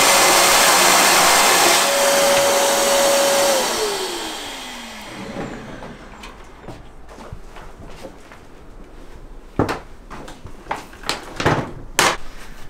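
A vacuum cleaner in an attic runs loud and close, then winds down as its motor pitch drops and fades out, followed by scattered knocks and clatters of handling.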